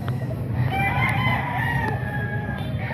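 Rooster crowing at a gamefowl market, a drawn-out crow with a rising then falling pitch under constant market crowd noise and low chatter.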